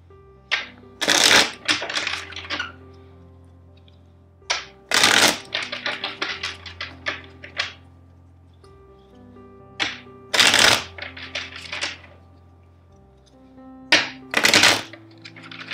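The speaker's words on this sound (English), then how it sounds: "First, let's shuffle the deck four times." A deck of tarot cards being shuffled, with repeated bursts of crisp riffling and fluttering card slaps in clusters, close and clear over soft background music.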